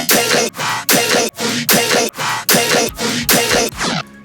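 A soloed sidechain channel in Ableton, ducked by Shaperbox, pulses loudly: a dense sustained sound drops out and swells back in a regular rhythm about twice per second, close and unaccompanied by speech.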